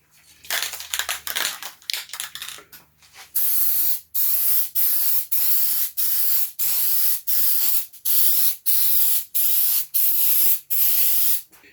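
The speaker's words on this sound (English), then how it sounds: "So I'll spray both sides, let them tack off," Quick Grip spray adhesive sprayed onto cardboard for a radio cabinet back, first a run of short rapid hissing bursts, then about ten longer, evenly spaced loud sprays, each a broad close hiss cut off sharply.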